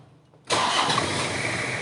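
A 2004 Toyota Kijang LGX diesel engine starting: quiet at first, then the engine catches abruptly and settles into a loud, steady, clattering idle heard close by, with no talking.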